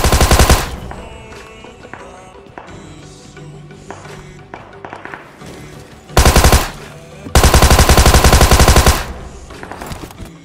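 Automatic gunfire in a PUBG Mobile fight, long stretches of rapid loud bursts with the loudest sustained volleys near the end, layered over quieter game sounds.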